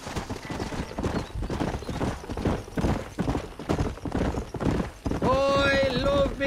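Horse hooves gallop in a rapid, steady clip-clop in the Red Dead Redemption video game, close and loud, while voices talk over the ride and a horse whinnies near the end.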